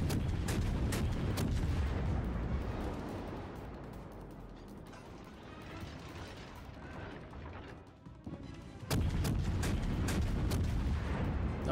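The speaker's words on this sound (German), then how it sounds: "Ich glaube, ich kann gar nicht mehr auf den schießen." Warship guns firing in the World of Warships naval game, with sharp booming salvos and clanking turret mechanisms at the start, a rumbling lull, then another loud burst near the end.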